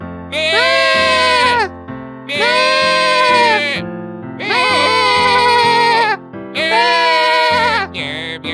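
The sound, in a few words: people imitating a goat bleating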